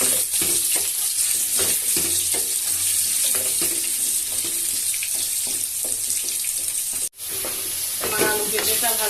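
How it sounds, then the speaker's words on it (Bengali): Papaya and potato pieces frying in oil in a pan, a loud, steady close sizzle with stirring scrapes that cuts out briefly and then resumes. "পেঁপে আলুটা দিয়ে ভেজে নেব।"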